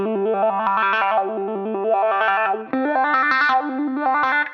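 An electric guitar runs through a wah pedal, its distorted notes sweeping up and down in tone as a fast repeating riff plays loud and close, with a short break midway and no speech.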